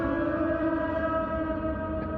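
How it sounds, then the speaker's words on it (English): An air raid siren wails steadily and loudly, a sustained multi-tone drone holding throughout without pause. "air raid sirens coming on for some reason"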